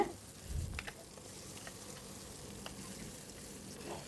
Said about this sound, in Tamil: இது சின்ன தக்காளியை தான் நறுக்கி சேர்த்துருக்கேன் இதை நல்லா வதக்கி விட்டுக்கோங்க